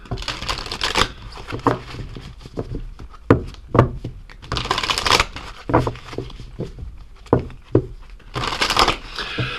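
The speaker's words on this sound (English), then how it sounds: "So let's get into some oracle cards here and see." A deck of oracle cards being shuffled up close, with repeated riffling and shuffling bursts and soft papery slaps in an irregular rhythm, loud and alone.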